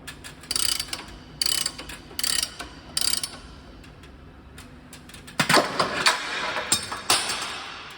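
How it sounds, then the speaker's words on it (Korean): A bolt being tightened on the back of a GMC 500A 60 kg HD spring balancer, with short repeated ratcheting clicks up close, then a denser burst of metallic rattling. "볼트를 또 조여줍니다"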